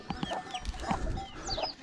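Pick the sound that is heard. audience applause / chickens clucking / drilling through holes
chickens clucking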